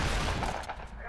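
Rapid gunfire bursts crackle in Fortnite, a dense, loud volley of overlapping shots with a voice talking over the action.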